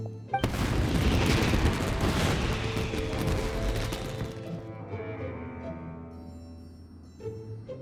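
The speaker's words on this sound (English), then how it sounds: "this is turning into a bit of a fireworks display" Video game fireworks burst with a sudden loud boom followed by a dense crackling, sizzling shower that slowly fades over several seconds into a lingering ringing decay, with a faint pop near the end.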